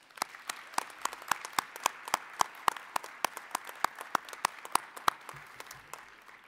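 A small crowd claps in a round of applause at a college commencement ceremony for arts and sciences graduates, sharp individual claps ringing out in a steady, sparse rhythm with no one speaking.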